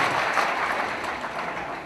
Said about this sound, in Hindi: एक बार समूचा सदन दोनों हाथ ऊपर उठा करके अच्छी तालियां बजाकर भाई गोविंद